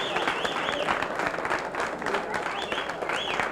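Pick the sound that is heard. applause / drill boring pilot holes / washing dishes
applause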